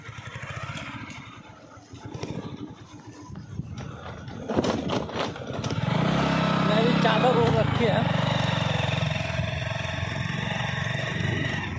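A motorcycle engine drones steadily during a ride past maize fields on a cold day, rising to a louder, sustained hum in the second half, with someone talking over it at first.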